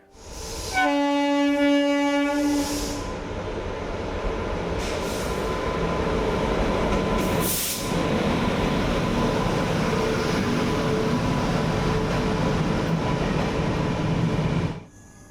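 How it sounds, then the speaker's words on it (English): A loud train horn blasts at the start, then a heavy, steady rumble of rolling carriages at Kengeri station in India continues for several seconds before fading out abruptly. "It was just waiting game at the station watching trains arrive and depart."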